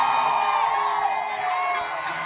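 A large rally crowd shouts and cheers in one sustained, loud roar of many voices, with whoops rising over the dense mass of sound.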